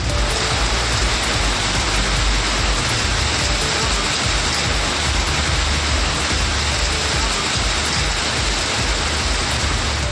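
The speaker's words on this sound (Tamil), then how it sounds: "பலத்த காற்றுடன் கூடிய கனமழை பெய்ததால் குளிர்ச்சியான சூழல் நிலவியது" Heavy summer rain driven by strong wind across towns in Tamil Nadu, a dense, steady roar of downpour that holds evenly for the whole stretch with no pauses and no voices.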